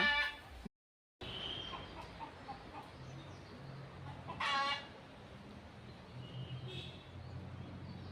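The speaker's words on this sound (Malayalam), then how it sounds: "എന്തോ ഒരു അപകടം കണ്ട് കോഴി അതാ" A chicken gives sharp, repeated alarm calls and squawks in short bursts over quiet outdoor background, with other birds calling faintly in the distance.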